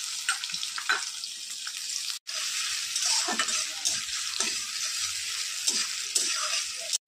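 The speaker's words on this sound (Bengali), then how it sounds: "পেঁয়াজ কুচিগুলো দিয়ে দেবো।" Chopped onions fry in hot oil in a wok-style kadai while being stirred, a steady, close sizzle with brief scraping pauses and no talking.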